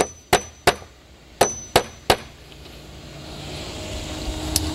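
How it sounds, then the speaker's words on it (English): A hammer taps carriage bolts flush on a wooden Adirondack chair: six sharp metallic strikes in an uneven quick series, close and loud, followed by a fading low background rumble. "Take your hammer and tap the carriage bolts flush."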